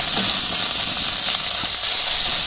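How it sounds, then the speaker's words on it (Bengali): Onions sizzle and hiss steadily in hot frying oil with cumin seeds, a loud, continuous bright frying noise that holds evenly throughout, with no talking. "তো পেঁয়াজটা একটু ভাজা ভাজা করে নিচ্ছি"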